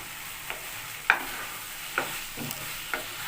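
Homemade pasta seasoned with Maggi masala being stirred in a pan, a soft sizzle under a few distinct spatula knocks spaced about a second apart, close by with no talking.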